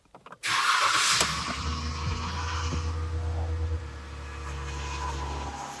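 A Dodge Jeep Chrysler 3.6L truck engine cranks, fires loudly and settles into a steady idle that carries on, its tone easing slightly partway through.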